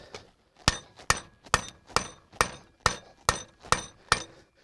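A heavy hammer weighing about 1.5 to 2 kilograms strikes nine times in an even, steady rhythm, each blow a sharp, close, ringing impact with a quick decay.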